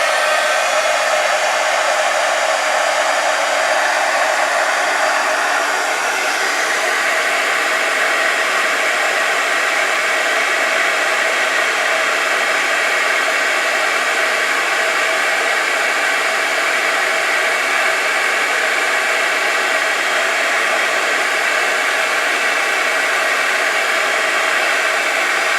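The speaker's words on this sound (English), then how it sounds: "And then I'm going to heat set it." A heat embossing tool blows hot air to heat set embossing enamel, with Nuvo mousse on a papercraft project. A loud, steady, hissing whoosh runs without a break from start to end, with no talking.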